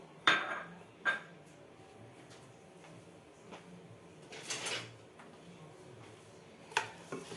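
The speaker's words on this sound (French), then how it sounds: "Je mélange tous les ingrédients bien" White beans, spices and meat mixed together in a metal pot, heard as a few sharp clanks and scrapes of a utensil against the pot spread apart, with quieter shuffling between, close and without talk.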